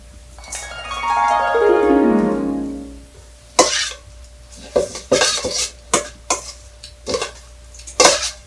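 Salad ingredients tossed together in a bowl while preparing a meal: a few seconds of ringing metallic clatter, then a run of sharp clinks and scrapes of utensils against the bowl, close and fairly loud.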